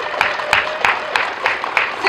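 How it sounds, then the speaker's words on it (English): Applause from the audience at a Relay for Life opening ceremony, honoring the event volunteers: a steady, evenly spaced series of sharp claps, about six in two seconds, fairly close and moderately loud over faint background noise. "I want to give them a round of applause."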